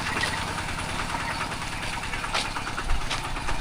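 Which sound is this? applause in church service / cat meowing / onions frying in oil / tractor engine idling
tractor engine idling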